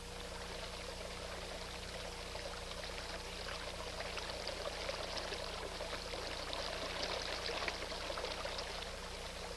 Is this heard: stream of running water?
yes